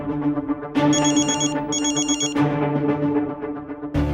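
A phone rings repeatedly on an unanswered call in a Hindi crime drama scene, a loud electronic ringtone with a bright melodic pattern filling the whole stretch, briefly pausing and resuming.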